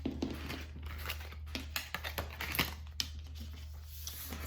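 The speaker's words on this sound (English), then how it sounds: "So hard trying to pick up the cards with my nails on the desk." Tarot cards scraped and picked up off a desk with fingernails, giving a string of soft, close clicks and scratchy taps over a steady low hum.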